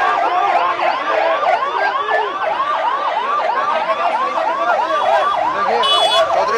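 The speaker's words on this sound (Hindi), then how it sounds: "गाड़ी सायरन गाड़ी का पूरा बज रहा है" A police vehicle siren wails continuously in rapid, repeating up-and-down sweeps at a Congress protest in Jammu, loud and close, with no voices.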